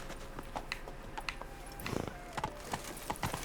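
Hooves of a horse from The Witcher 3 clip-clop in an uneven walking rhythm, fairly close and clear, with faint background voices underneath.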